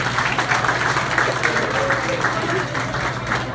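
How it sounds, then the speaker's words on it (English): A crowd gives a round of applause at a Houston event, producing a dense, continuous wash of clapping at a fairly loud level, with a low steady hum beneath. "Let's give her a round of applause."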